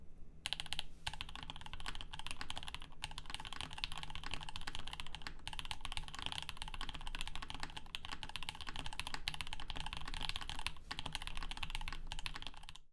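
Steady, continuous typing on an NK87 Entry Edition tenkeyless mechanical keyboard with lubed stabilizers and standoffs removed, a close, dense clatter of keystrokes running for the whole stretch with no talking.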